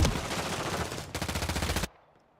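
Rapid automatic gunfire from a first-person shooter game rattles loud and close for about two seconds, with a short burst after a brief break, then cuts off abruptly into near silence.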